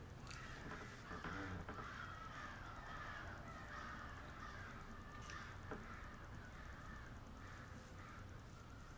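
Several crows caw repeatedly at a distance, harsh calls recurring irregularly over a steady outdoor background.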